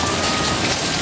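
Heavy rain pours down in a dense, constant hiss that fills the whole short stretch at close range, loud and unbroken.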